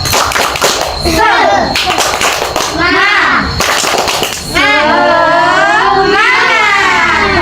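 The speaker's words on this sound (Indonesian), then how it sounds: "Yuk, tepuk semangat." Children clap in rhythmic bursts while chanting together an Indonesian tepuk semangat classroom clapping routine, their voices rising in a lively call-and-response, the clapping loud and close.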